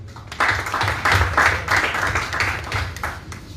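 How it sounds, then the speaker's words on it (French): Audience applause at a press conference in Douala, Cameroon, clapping in loose bursts that swell and dip for a few seconds, with low murmuring underneath. "Mesdames et messieurs, applaudissez très fort"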